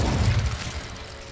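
An Incendio fire spell cast in the Hogwarts Legacy video game produces a dense, rumbling whoosh of flame, strongest at the start and slowly thinning out, heard close with no talking.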